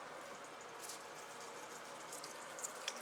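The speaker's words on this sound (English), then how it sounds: "I'm just going to drop this skin side down. To let this fry on the first side." Chicken pieces sizzle skin side down in a hot pan, a steady dense crackle of frying fat with scattered louder pops and spits, close and continuous with no talking.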